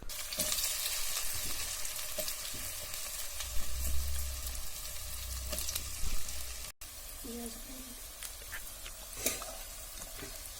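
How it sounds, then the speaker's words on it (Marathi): Coriander fritters (kothimbir vadi) fry in oil in a pan, a steady close sizzle and crackle with occasional spatters and a brief clatter of handling partway through. "अशाच पद्धतीने आपण सगळ्या वड्या तळून घ्यायच्या तव्यावर जरी थोड्या तेलात भाजून घेतल्या तरी चालतात"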